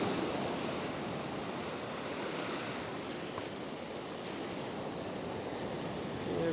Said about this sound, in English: There's that wave.